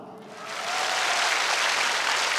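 A concert audience at a live Vietnamese music show bursts into applause that swells within the first second and holds as a dense, steady clapping roar.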